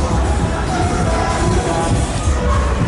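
A dense nightlife crowd on Bangla Road in Patong, Thailand, with a constant loud wash of chatter, footsteps and street noise.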